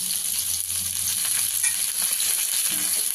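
Sliced onion, green chillies and curry leaves fry steadily in hot oil, giving a continuous close sizzle with soft crackles throughout and no talking.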